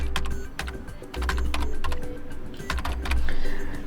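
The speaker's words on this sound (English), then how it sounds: "try doing Windows and R on your keyboard" Close, busy typing on a computer keyboard, rapid irregular key clicks and clacks in quick runs over a steady low hum, with no speech.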